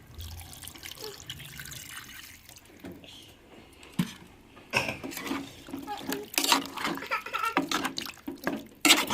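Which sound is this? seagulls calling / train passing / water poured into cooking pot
water poured into cooking pot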